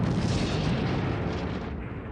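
A dense, continuous barrage of explosions and booming blasts rumbles through the opening battle of Kamen Rider Decade, loud and unbroken, with no talking.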